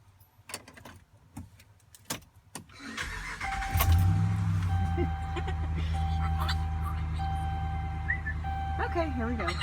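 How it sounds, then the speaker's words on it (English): A truck engine cranks over after some keys and handling clatter, catches with a loud surge, then settles into a steady idle with a high beeping tone while people talk nearby. "You have to start the truck."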